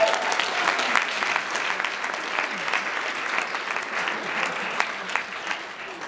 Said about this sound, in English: Big round of applause for CJ, everybody.